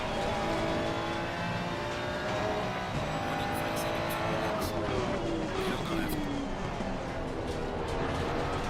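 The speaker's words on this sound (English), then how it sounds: "the Ferrari coming past made it difficult as well" A Ferrari in a racing video game roars past amid a steady din of racing engines, its pitch sliding down midway as it overtakes, with a voice talking over the noise.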